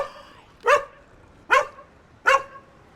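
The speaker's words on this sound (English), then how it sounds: "The dog is barking." A dog barks three times in sharp, evenly spaced bursts, close and loud, with quiet between each bark and no voices.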